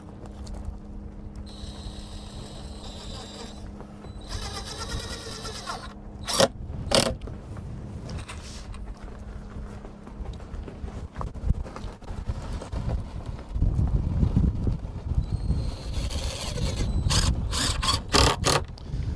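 Power driver sinking 1.5-inch multi-purpose deck screws into a wooden step being built for a skoolie or RV, heard as whirring bursts and ratcheting mechanical clicks with clattering handling noise around them, fairly close.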